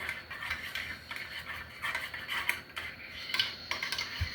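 Root beer scent being stirred into melted melt-and-pour soap base, a utensil scraping and clinking against the container in repeated close bursts with short pauses between strokes.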